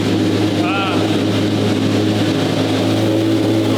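A steady, low engine idle drones on evenly, with a brief faint chirp early and a voice murmuring in the background.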